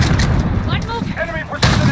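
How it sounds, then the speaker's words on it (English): A precision airstrike lands in Call of Duty: Modern Warfare multiplayer as heavy, booming impacts, with a loud burst near the end. It is mixed with in-game radio chatter and other gunfire. "Be advised, friendly precision airstrike inbound."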